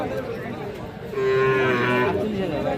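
A white Sahiwal bull calf at a livestock market lets out one drawn-out nasal moo close by, over background crowd murmur.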